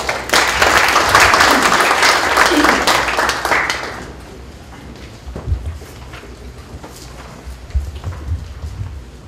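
An indoor audience at an e-government project event claps to welcome a government official, with loud, dense applause for about four seconds, then a quieter room with a few thumps and faint sounds.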